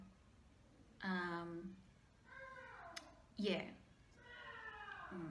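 A man mimics a cat with several drawn-out meows, alternating with a real cat meowing, over quiet room noise; a brief spoken word is heard.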